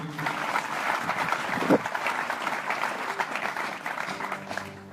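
Church congregation at a live prophetic service applauding and cheering loudly, a dense sustained wash of clapping from many hands that fades slightly toward the end.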